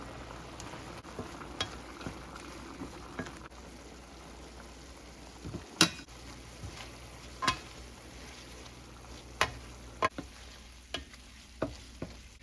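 Linguine finishing in sauce in a pan gives a low, steady sizzle and simmer, broken by scattered clinks and scrapes of stirring, close by and without talk.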